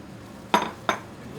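Kitchen bowls and dishes clink twice in quick succession, two sharp ceramic knocks close by against a quiet background, with no talk.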